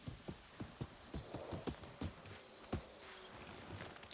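Horse hooves clip-clop at a steady walking rhythm in the video game Ghost of Yotei, a run of crisp, moderately close hoofbeats with faint ambience behind them and no talk over them.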